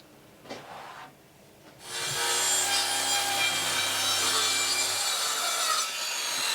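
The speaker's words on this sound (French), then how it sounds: "Il a réglé la scie en biais pour faire les côtés" A few faint knocks, then a power saw set at an angle spins up and cuts steadily through wood for a boat's side planks, with a loud, sustained whine for several seconds.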